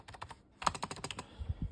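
Rapid clicking of keys on a Logitech MK240 Nano wireless keyboard with low key travel, a short burst of close, crisp keystrokes, a brief pause, then a faster run of taps.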